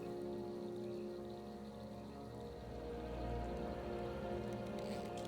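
Steady rain falls in The Elder Scrolls V: Skyrim, a continuous even hiss of drops on surfaces with a low rumble that swells slightly midway, no talking.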